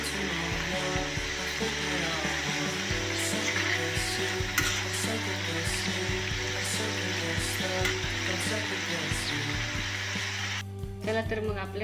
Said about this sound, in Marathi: आता असं कापलेलं पण आपण तळून घेऊया.